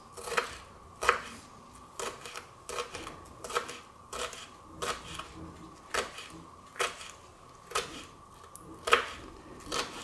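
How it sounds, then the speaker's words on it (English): A knife chops a jalapeno into small pieces on a cutting board, a quick series of sharp, close thuds in an uneven steady rhythm, alone without talk. "all I'm doing is cutting the jalapeno lengthwise into these little strips"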